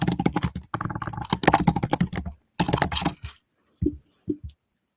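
Rapid computer keyboard typing while code is copied and pasted, dense clicky bursts for a few seconds, then a pause and a few isolated keystrokes, close and distinct.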